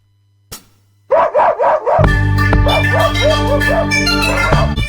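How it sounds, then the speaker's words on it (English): A dog barks in a quick rhythmic burst of yaps, then the barks continue over a loud thumping beat and music. "That's dogs barking."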